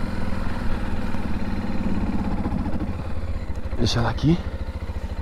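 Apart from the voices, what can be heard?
motorcycle engine running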